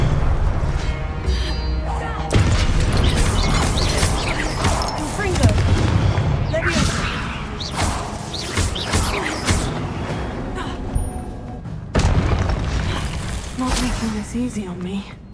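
Repeated Confringo fire-spell explosions in the Hogwarts Legacy video game, booming blasts and crashes layered over dense game music and effects, with a voice talking over them throughout.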